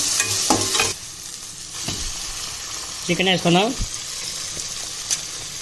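Chicken pieces go into a pan of frying tomatoes for a Rayalaseema buttermilk curry, a loud close sizzle that settles to a steady frying hiss with stirring, while a voice briefly speaks over it.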